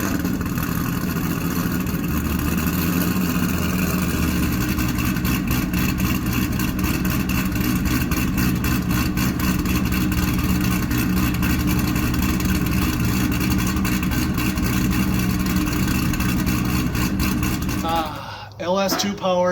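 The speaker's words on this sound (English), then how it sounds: "LS2 powered C6 cammed long tube headers." A C6 Corvette with a cammed LS2 and long tube headers revs loudly and continuously up close, a dense mid and low engine roar holding steady before cutting off abruptly near the end.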